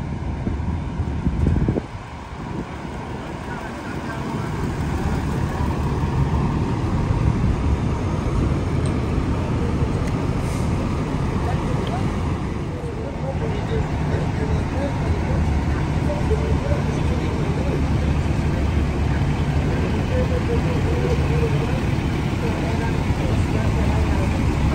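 Fire engines idle at a large warehouse fire on a downtown Los Angeles street near Skid Row at night, a constant loud low diesel drone with traffic and wind rumble, a brief bump near the start.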